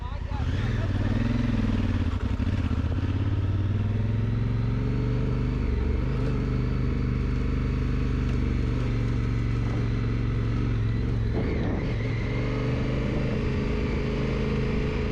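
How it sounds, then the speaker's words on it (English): Honda Africa Twin motorcycle climbing a steep pass in first gear, a low labouring engine drone and wind noise, close and continuous, with the engine straining at low revs. "Like first gear, about 15 to 20 miles an hour, was about as slow as I wanted to try and go. Otherwise, the engine was really lugging."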